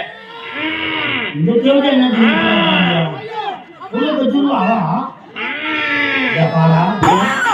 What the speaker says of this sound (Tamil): இந்த ஆடை குட்டி போடுக்குது